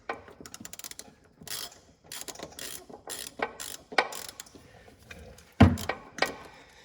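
A wrench works loose a 14mm bolt on a Toyota Supra brake, giving a run of close ratcheting clicks and metallic bursts, then a sharp clunk as it breaks free, with no talking.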